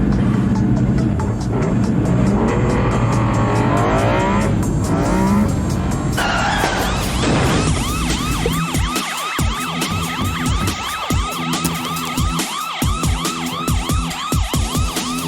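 Car chase in a low-budget film with a Jeep as the police vehicle: an engine roars, then tires squeal repeatedly in loud, close bursts while a siren wails over the scene.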